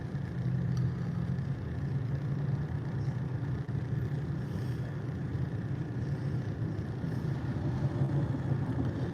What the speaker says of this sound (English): See that truck flying?